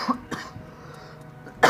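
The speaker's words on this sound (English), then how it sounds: "I'm gonna cough first." A person coughs indoors, two short close coughs at the start followed by a quiet pause, then another sharp burst at the end.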